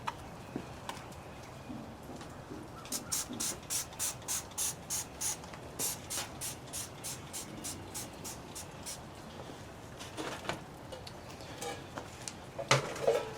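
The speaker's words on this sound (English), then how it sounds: "I'm going to use this Dawn Platinum Power Wash Spray." Dawn Platinum Power Wash Spray is pumped onto a dirty outdoor grill in a quick run of about a dozen sharp, hissing trigger sprays, evenly spaced and close, followed by scattered scrubbing and clatter.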